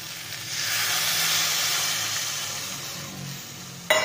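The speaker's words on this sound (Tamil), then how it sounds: "அந்த புளி கரைச்சல் ஊற்றி வேக விடலாம்" Tamarind extract poured into a hot frying pan makes a steady broadband hiss and sizzle that holds at an even level, with a short clatter right at the end.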